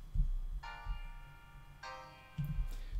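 Root position triads moving up by step with parallel octaves and fifths, played as quiet sustained chords, with one held chord followed by a second and a brief third attack, soft and close, with no talk over them.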